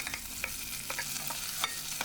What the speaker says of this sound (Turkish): Bir tatlı kaşık domates salçası da ilave ediyorum. Kavuruyorum.